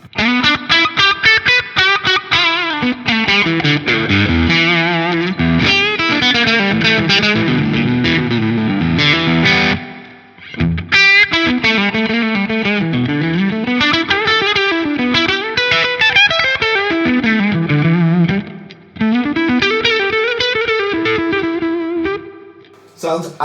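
An electric guitar plays through a Black Country Customs Laney overdrive pedal in normal mode, giving loud, driven sustained chords and sliding riffs with a short pause near the middle, and no talking over the playing.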